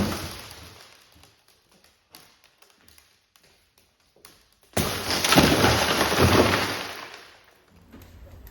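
A tempered glass panel on a double decker bus being smashed during a tiny home conversion: light taps and knocks precede a sudden loud burst of shattering and crumbling glass that sustains for about two seconds, then fades.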